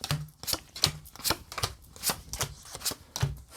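Tarot cards shuffled and handled in a quiet room, a run of quick papery slaps and riffles in an uneven rhythm, close to the microphone with no voices.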